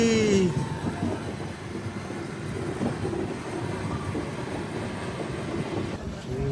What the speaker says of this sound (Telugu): కాట్పాడి జంక్షన్ లోపలికి వెళ్తుంది బండి